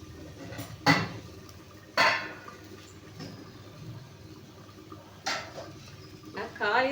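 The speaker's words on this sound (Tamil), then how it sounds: "இப்போ நம்ம குழம்பை இறக்கி இந்த அடுப்பில் மாற்றி விட்டுங்க" A pot of kuzhambu is set down on a stove in a home kitchen. A few sharp metallic clanks and scrapes of cookware stand out near and distinct over a low background hum.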